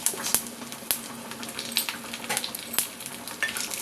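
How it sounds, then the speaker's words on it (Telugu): Dry red chili pieces and sesame seeds fry in a pan for a Telugu ajwain-leaf rice, a soft continuous sizzle dotted with sharp crackles and pops, close and fairly faint, with no talking. "ఇవి చక్కగా వేయించుకుందాం"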